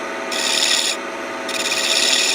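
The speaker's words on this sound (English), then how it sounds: "I'm gonna bust out my round carbide tool from Strong Ink." Round carbide woodturning tool cutting into spinning wood on a lathe, a close, bright hissing scrape in two sustained passes over a steady motor hum.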